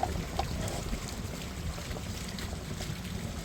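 A sailboat moves through open water as the wind begins to drop, with a steady rush of wind buffeting the microphone and soft water wash against the hull throughout.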